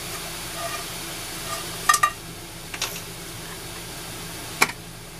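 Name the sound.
stirring pudding mixture in a saucepan on the stove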